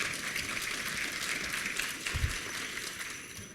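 Audience applause at a leadership orientation gathering, a steady wash of many hands clapping at moderate distance for a few seconds, fading slightly at the end.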